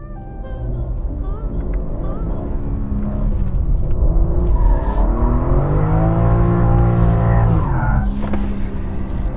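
A 2021 BMW M3 Competition sedan, 510 PS and rear-wheel drive, lapping a cold, damp track: loud, close engine roar with rising revs and shifts, tire squeal and skid noise throughout, no voices.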